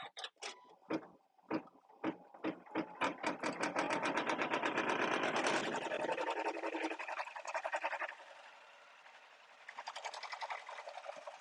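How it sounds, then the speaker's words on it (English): Sewing machine stitching a circle zipper pouch, starting with slow separate needle strokes that speed into a fast steady whir, then easing off and running again more quietly at the end. "I have my machine going about 700 stitches."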